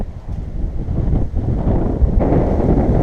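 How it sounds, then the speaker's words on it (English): Gusty wind buffets the microphone with low rumbling roar on open fell edges, easing briefly then strengthening, loud and close with no talking. "out here it's a little bit windy out on the edges"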